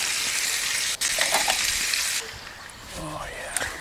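A fillet steak sizzles on a gas camping stove outdoors at a campsite, with steady frying hiss that drops off partway, close by, with quiet voices at the end.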